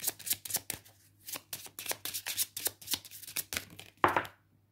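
Oracle cards are shuffled and drawn at close range, a rapid series of papery riffles and slaps in uneven bursts that ends with one louder flick as a card is pulled, then silence.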